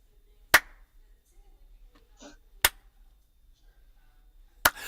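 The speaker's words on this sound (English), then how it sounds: "Duck lip slow clap." Three deliberate hand claps spaced about two seconds apart, loud and close, with faint soft noises between them.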